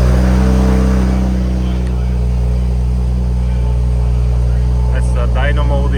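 A car engine holds a steady, loud rumbling drone on a dyno with the rev limit raised, a continuous near hum with a brief rise toward the end, and no speech over it.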